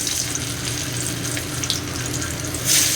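Soybean muitha dumplings fry in hot oil over a lowered gas flame, giving a steady close sizzle with faint watery crackle throughout and a brief louder burst near the end.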